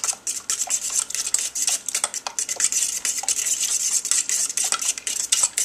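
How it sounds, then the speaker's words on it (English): A fork mixing a thick yogurt mixture in a metal pot, rapid repeated scraping and clinking strokes in an uneven rhythm, close and fairly loud, with no talking over it. "Just mix it in with the fork."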